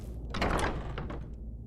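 A wooden door swinging open in Skyrim, a broad creaking rush of movement building up early and fading out over a low ambient game drone, no talk.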